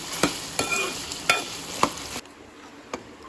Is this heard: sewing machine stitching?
no